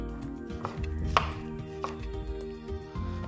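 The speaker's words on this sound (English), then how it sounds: "And next I've just got a simple shallot, peeled, thinly sliced." A knife thinly slicing a peeled shallot on a board, a few crisp chopping taps spaced irregularly over a soft, steady background hum.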